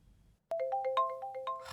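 A mobile phone ringtone in an FMV murder mystery game starts abruptly, a loud close electronic melody of repeated bright tones, alone without talk.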